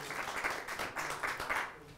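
Debate audience applauding: a short, fairly quiet burst of clapping from a crowd, heard at a distance.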